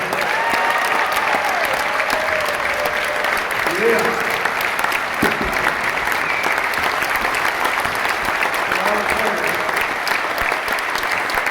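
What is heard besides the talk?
crowd applause at championship rally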